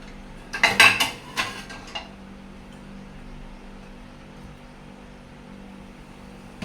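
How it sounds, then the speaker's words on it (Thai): Shrimp stir-fried with vegetables is scooped onto a plate in a few quick metallic scrapes and clatters of a utensil against a pan. Quiet follows after a couple of seconds. "นี้ก็สิมาตักใส่จานนะคะ ตักใส่จานเลย"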